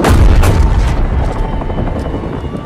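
Explosion destroying a target in the video game Call of Duty Modern Warfare, a loud close boom at the start that rolls off into a long low rumble and fading debris noise.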